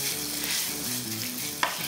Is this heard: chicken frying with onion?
yes